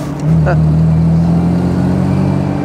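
A 1958 Jaguar XK150 3.4 with its original numbers-matching engine runs at a steady, loud idle with a low, even drone throughout, and a brief voice-like sound near the start.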